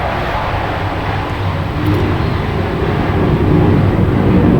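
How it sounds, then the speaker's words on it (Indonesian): An airplane passes overhead as a broad, steady roar that builds slightly toward the end, fairly loud and continuous, with no voices. "Ya, itu suara pesawat, oke?"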